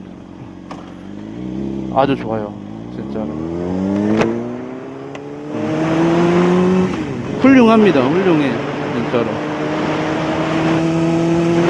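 A Honda CBR600RR sport motorcycle on a test ride in Jeju revs and accelerates, its engine pitch climbing in long, loud sweeps with a few quick blips, while someone talks over it.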